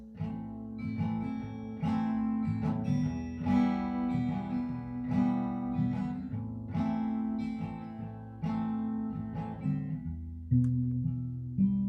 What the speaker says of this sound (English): these next few chords that I'm going to play that are minor chords,